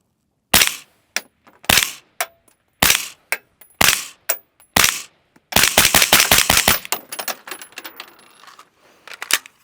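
A Radical Defense HPA airsoft gun fires close by: several single sharp cracks spaced about a second apart, then a rapid full-auto burst of snappy shots that tails off into fainter pops, loud, with no talking.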